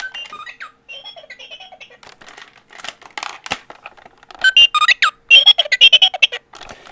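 A Star Speeder 3000 toy spaceship from Disneyland Paris gives off a string of bright electronic beeps, chirps and warbling tones, sparse at first, then a fast loud burst of rapid bleeps near the end, with no talking.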